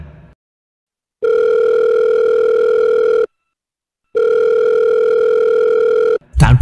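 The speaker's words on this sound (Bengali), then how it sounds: "ফ্রেশ হয়ে তার ছোটবেলার বন্ধু সোমনাথকে ফোন করলো একটা" A telephone dial tone sounds loud and close as a call is placed, in two long steady bursts separated by silence, with a short noise at the end.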